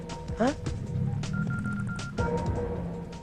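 Mobile phone keypad tones from a Tamil film scene, a quick run of beeping dial presses near the start and then a steady tone, with voices and background sound underneath.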